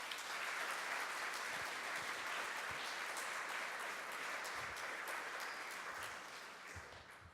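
A church congregation applauds to thank people for their service. The clapping is soft and distant but steady and continuous, then gradually tapers off in the final second.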